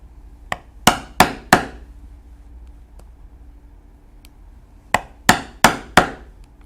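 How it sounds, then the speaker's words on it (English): A mallet striking a punch through leather saddle tack parts for a breast collar: a light tap and three sharp blows, a pause, then another tap and three more, close and loud. "And now we can punch and stitch these parts together."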